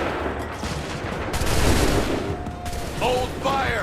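Massed musket volley fire in Assassin's Creed III, a dense continuous crackle of many shots blending into a loud roar, with shouted commands and other voices in the game battle around it.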